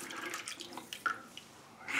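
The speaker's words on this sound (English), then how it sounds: "Oop, dripping." Water dripping into a sink while someone shaves, a few soft, close drips and trickles over a quiet background.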